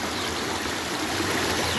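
Water in a stream flowing through farm fields rushes and gurgles in a steady, continuous wash, close and fairly loud, with no voices.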